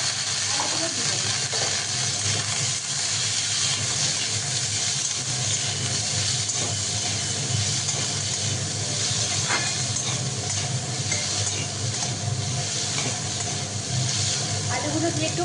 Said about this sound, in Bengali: আলুগুলো দিয়ে একটু ভাজা ভাজা করে নিতে হবে